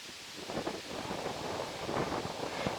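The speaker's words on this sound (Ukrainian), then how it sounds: "Вітер сьогодні сильний." Steady outdoor wind at a fishing spot buffeting the microphone, a continuous broadband rush with gusty swells throughout, no voices.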